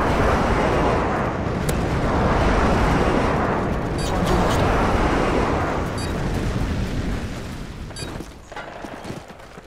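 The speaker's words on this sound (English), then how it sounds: "Friendly airstrike inbound." Airstrike explosions in the video game Modern Warfare 2, heard as a continuous loud, rumbling barrage of booms that roll on for several seconds before easing off toward the end.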